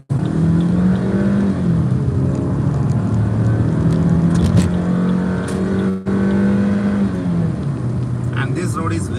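A car cruises along a beach road with a steady, loud engine drone and road rumble close by, shifting slightly in pitch as it drives, while someone talks over it.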